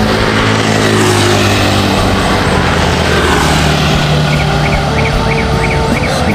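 A heavy vehicle rumbles past on the road, a loud continuous engine drone with dense traffic noise and no talking.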